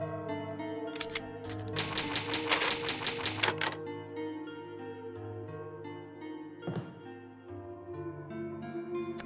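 Typewriter in the Resident Evil HD Remaster video game typing a save with an ink ribbon: a rapid run of sharp mechanical key clacks, then a few scattered strikes over a quiet, low musical background.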